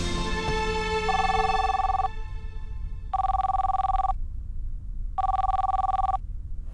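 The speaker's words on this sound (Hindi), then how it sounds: "और ये फोन का घंटे कब से बज रहा है? वो भी इतना जोर जोर से।" A telephone bell rings loudly indoors in three sharp, evenly spaced bursts, each about a second long, with short silences between and no voices.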